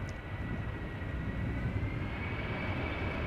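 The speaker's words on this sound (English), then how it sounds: "Suriname Airways is flying with the A340 to Paramaribo up and down again." A Suriname Airways Airbus A340 lands at Schiphol, its engines giving a faint, steady distant roar with a soft high whine running across.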